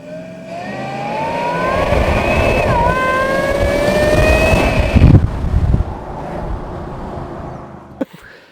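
A supercharged Nissan Patrol Y62 engine revs up with a rising high-pitched supercharger whine climbing alongside it, then drops off abruptly, leaving a lower rumble and a sharp click.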